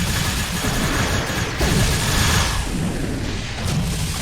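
Starship weapons fire and explosions in Star Trek Online, a dense, continuous barrage of booming blasts and bursts layered over a roaring low rumble, loud throughout.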